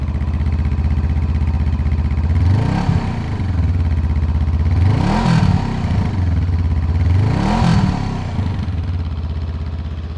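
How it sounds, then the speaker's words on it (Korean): Honda CL500 middleweight scrambler motorcycle engine starting and running steadily, its exhaust note rising in three distinct revs that swell and fade over a continuous close, loud idle. "배기음이 그렇게 큰 차이는 나지 않는데 약간 달라졌다고 하더라고요."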